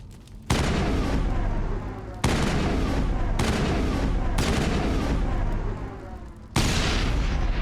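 Game gunfire in Mass Effect lands as four loud, heavy blasts spaced a second or two apart, each followed by a sustained booming rumble, close and dominant with no audible talk.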